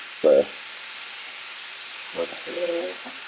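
A salmon croquette mixture seasoned with salt, pepper, garlic and onion sizzles in a pan, a steady soft hiss throughout while a voice briefly speaks at the start and again near the end.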